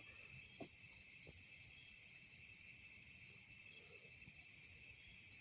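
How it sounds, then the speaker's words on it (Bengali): Crickets shrill in a steady, continuous high drone on a night hillside near Siliguri, with low background rumble and no voices. "ঝিঝি পোকার ব্যাঙের ডাকের শব্দ আপনারা শুনতে পাচ্ছেন কি না"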